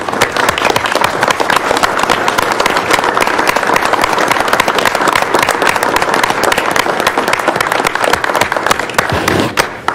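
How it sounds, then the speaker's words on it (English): A loud, sustained round of applause from attendees at a county commissioners' business meeting, a dense and close clatter of many hands clapping continuously, tapering slightly at the end. "Can I ask y'all stand and give me another round of applause for Sean and Janet"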